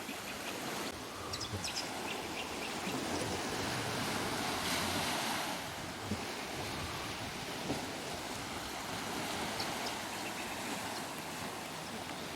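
Surf washes steadily onto Second Beach at Yarrabah near Cairns, Queensland, a continuous broad roar of breaking waves with some wind, no voices, and a slight swell in loudness around the middle.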